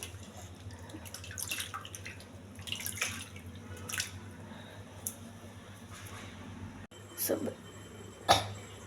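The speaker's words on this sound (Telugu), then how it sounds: "లాస్ట్గా ట్యాప్ వాటర్ ఆపేసి మంచి వాటర్ వేయాలండి. డ్రింకింగ్ వాటర్ వేసి కడగాలి." Water splashes and drips in a sink as grapes are rinsed, with intermittent trickling bursts and a steady low hum underneath.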